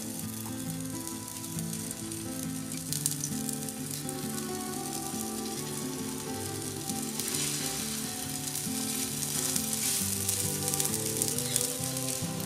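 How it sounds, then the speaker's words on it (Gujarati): Potato patties fry in oil in a pan, a steady close sizzle that stays loud and even throughout, with no voices over it. "હવે આપણે પેટીસ શેકાવા માટે મૂકી દઈએ"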